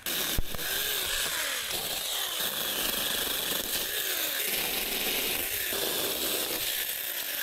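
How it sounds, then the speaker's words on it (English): A small electric mini chainsaw whines steadily as it cuts through a dead shrub, its motor pitch rising and dipping as the blade bites in. "I'm going to use this mini chainsaw"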